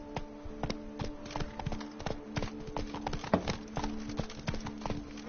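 Horse hooves clip-clopping in The Witcher 3: Blood and Wine video game, a steady, quick rhythm of crisp hoof taps over a low, constant background hum, fairly quiet and without talk.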